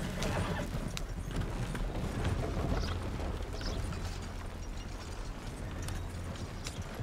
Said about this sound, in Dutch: Kijk, die paarden lopen, jongen.